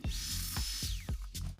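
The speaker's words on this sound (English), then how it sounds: "the goal is to drill directly into the concrete and then put in the screw without an anchor" A power drill bores straight into concrete for a screw set without an anchor, producing a steady motor whine broken by repeated short bursts of grinding impact, close and fairly quiet.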